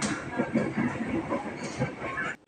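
Interior rumble of a commuter train travelling toward Tanjung Barat, a steady rolling drone with faint rhythmic rail noise, cutting off abruptly at the end.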